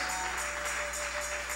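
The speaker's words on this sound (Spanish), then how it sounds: "Dale un aplauso al Señor con todo tu corazón." Steady applause from a church congregation fills the space during a Spanish-language service, a dense even clatter of many hands heard at moderate distance with no pause.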